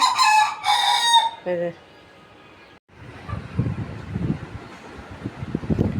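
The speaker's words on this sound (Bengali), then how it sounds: "এই যে আমার মোরগে ডাকতেছে।" A village rooster crows in a short loud burst and then sounds a lower tail note. The crowing gives way to silence and then a gusty rumble of wind noise at the microphone.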